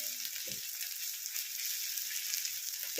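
Finely chopped onions sizzle in hot oil while being fried into beresta for egg korma, a steady bright hiss with a couple of soft stirring scrapes, close and continuous.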